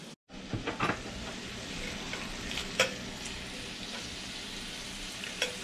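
Bacon frying in a pan before waffles from an antique waffle iron, with a quiet, steady sizzle and a few light clinks and scrapes.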